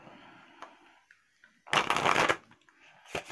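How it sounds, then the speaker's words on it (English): Angel cards get shuffled by hand close up, a soft riffle followed by a louder, dense flurry of card-on-card slaps, then a brief final snap. "I'll go ahead and draw the angel cards"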